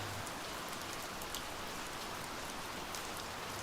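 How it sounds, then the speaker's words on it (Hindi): Steady rain falling as an audio drama sound effect, a dense, even hiss of drops on surfaces that holds constant and fairly close throughout, with no voices. "कुछ ही देर में उस बारिश की आवाज़ ने गौरव की मन की आवाज़ को भी शांत कर दिया"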